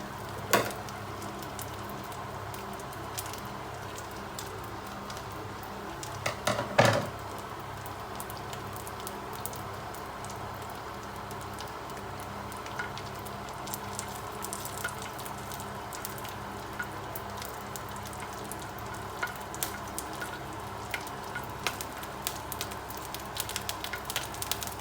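Tomato and ginger frying in a pan produce a steady close sizzle and crackle throughout, with a few louder clatters of stirring near the start, and no talking.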